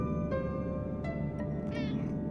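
A house cat meows several times, short cries over a constant low background hum, fairly soft and close.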